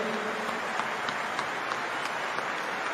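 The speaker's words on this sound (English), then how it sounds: "we should give them a big round of applause as well." Big stadium crowd applauding as the Premier League champions are celebrated, a steady, dense wash of clapping and cheering that holds at a roughly even level throughout, with no talk.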